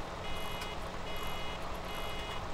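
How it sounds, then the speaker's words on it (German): Reverse warning beeper on a farm vehicle in Landwirtschafts-Simulator 17 (Farming Simulator 17), heard from inside the cab as a steady repeating high tone over constant engine rumble. "Weil das eigentlich so ein Warngeber vom Fahrzeug aus ist"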